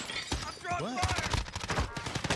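Quick volleys of gunshots in Call of Duty: Warzone, sharp repeated cracks in the second half, mixed with a talking voice.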